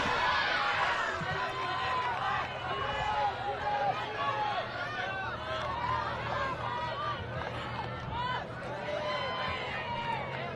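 Crowd noise at a girls' high school basketball final, a loud mix of cheering, chatter and babble with sneaker squeaks, strongest at the start and staying busy throughout.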